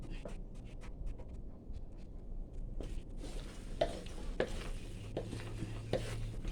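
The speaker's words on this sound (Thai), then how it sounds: "จริงอ่ะเขาจะกวนไปทางเดียวกันนะ" Thick sweet bean paste being stirred and scraped around a pan, irregular soft scrapes over a faint sizzle, close up and quiet, with no voices.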